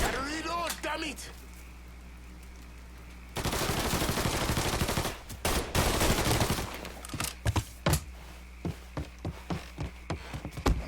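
Gunfire in the Mafia III crime game, a long dense burst of automatic fire followed by sharp separate shots, loud and close, with shouting voices mixed in.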